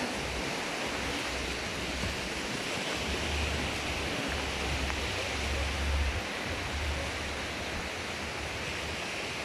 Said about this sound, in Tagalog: yung maririnig mo lang yung hampas ng alon na papunta sa dalampasigan